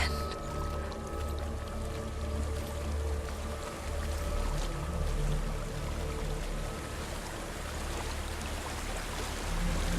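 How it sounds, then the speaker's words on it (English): A waterfall in the video game Hellblade rushes in a steady, continuous wash of falling water, moderately loud and unbroken, with a faint low tonal hum underneath. "There's a waterfall."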